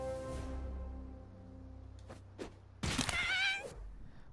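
A cat in the South Park video game gives one short, wavering meow near the end, after a sustained game tone and a couple of soft thuds.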